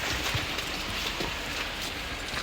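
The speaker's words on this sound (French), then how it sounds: "Il pleut" Steady rain falling outdoors during a hike, a dense even hiss with no pauses, close and fairly loud throughout.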